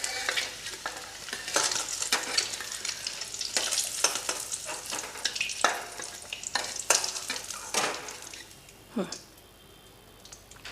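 Eggs sizzle in hot oil for a Bengali egg curry with potato, a dense close hiss punctuated by repeated scraping and turning strokes, then quieting toward the end with no talk.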